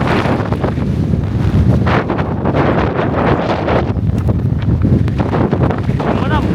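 Very strong wind on an exposed Icelandic hiking trail, roaring and buffeting the microphone constantly and loudly throughout with gusty rumble.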